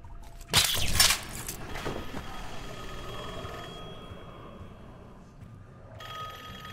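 A telephone rings in a video game, a brief loud shrill burst over a hum of ambient game noise, then fading into a quiet droning room tone.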